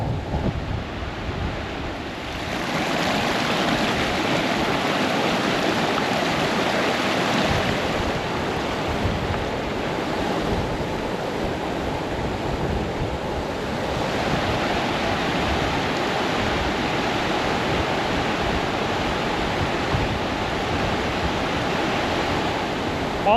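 Glacial creek water rushes steadily around a big rock mid-stream near a lake in the Grand Tetons, a loud, continuous broadband roar with wind buffeting the microphone and no talking.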